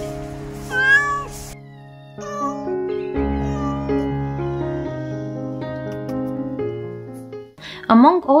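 A rescued mother cat mews with high, rising calls at the start and end, heard over a loud sustained musical backing that fills the middle.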